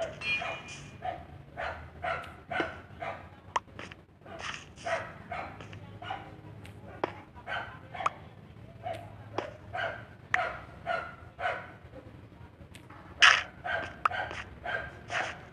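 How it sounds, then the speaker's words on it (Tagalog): A dog barks repeatedly in the background during a Minecraft Hive SkyWars session, the barks landing as irregular short bursts throughout, some louder and closer, over a low steady hum. "Kanina pa tong aso ah."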